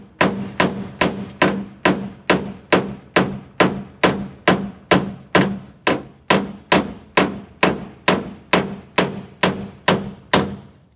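A hammer strikes the sheet metal of a 1959 Ford Galaxie off the dolly in a steady, even rhythm, about two blows per second, each a sharp ringing clank close up with no talking.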